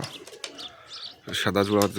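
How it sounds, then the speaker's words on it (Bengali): Pigeons coo and chirp softly nearby while someone talks over them. The pigeon chick comes from a pair of white pigeons. "সাদা যে কবুতর জোড়া, ওই জোড়ারই বাচ্চা"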